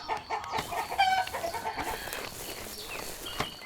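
Chickens clucking in the Bavarian adventure game A Bavarian Tale, a busy cluster of clucks and squawks from a nearby flock, fairly steady with a louder burst near the start.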